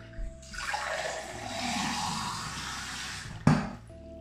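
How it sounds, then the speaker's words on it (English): Water from a bathroom sink tap gushes steadily into a glass for about three seconds, close and fairly loud, ending with a clunk as the tap shuts. "This is bathroom sink water, but let's see how fast I can down a pint."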